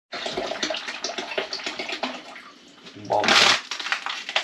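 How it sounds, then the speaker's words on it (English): Water poured into a slow cooker's liner, a short rushing splash near the end after talk-like sounds, loud and close. "Then, pour the water in."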